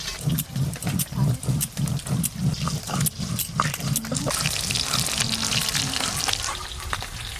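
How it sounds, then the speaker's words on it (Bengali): Snakehead fish fries in hot oil with a loud bubbling sizzle that pulses rhythmically at first, then settles into a steady, hissing crackle close up. "মাছগুলো ভাজা হয়ে গেছে"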